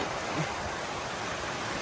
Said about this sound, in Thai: ฝนมาตก